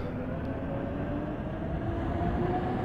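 A London Underground C Stock train departs on the District Line in the Open BVE simulator game, giving a steady, loud, low rumble with faint whining motor tones that build gradually throughout.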